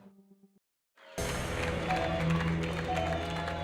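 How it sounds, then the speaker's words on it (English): A crowd at Chickie and Pete's sports bar applauds and cheers in a steady, loud wash during an Army vs. Navy event, after a brief stretch of quiet. "Oh yeah, what a great crowd here."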